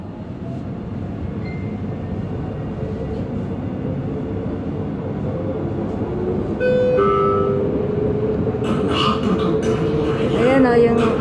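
Steady low rumble of a moving train interior bound for Abu Dhabi, with rattling, a few tonal squeals and clatter rising near the end, with people talking faintly.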